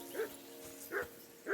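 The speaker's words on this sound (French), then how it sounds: "Ces aboiements vont me rendre fou." Dog barks in the medieval RPG Kingdom Come: Deliverance 2: three separate barks spaced roughly evenly, moderately loud and close, over a low steady background hum.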